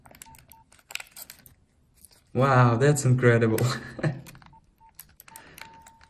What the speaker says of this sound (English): It's making sounds and the lights work